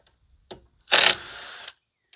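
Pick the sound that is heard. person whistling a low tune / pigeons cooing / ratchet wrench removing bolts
ratchet wrench removing bolts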